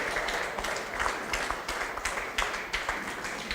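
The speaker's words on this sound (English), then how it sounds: "So round of applause for Team Vrindavan" Audience applause for Team Vrindavan at a Gaura Purnima gathering: a steady, dense patter of many hands clapping for several seconds, with a few louder bursts and no voices on top.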